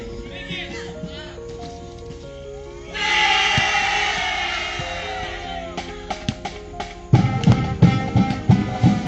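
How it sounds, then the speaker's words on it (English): A marching band at a basketball game erupts with cheering, a loud swell of crowd-like shouting and whoops, followed by drum hits and brass starting a song. "The band erupt with cheer and start to play a song"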